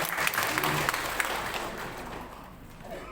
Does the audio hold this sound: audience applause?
yes